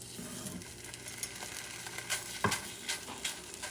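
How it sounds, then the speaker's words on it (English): Chorizo frying in a preheated pan just above medium heat, a faint steady sizzle with occasional sharp clicks and scrapes as it is stirred and broken apart. "So I'm going to add the chorizo."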